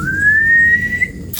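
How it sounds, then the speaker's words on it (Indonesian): A single sustained whistle holds one steady, slowly rising tone for about a second, heard alone over a low background rumble. "Ada yang bersiul bos."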